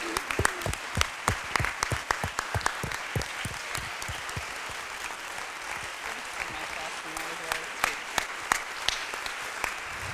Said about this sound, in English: I want to give them a big round of applause for this lady.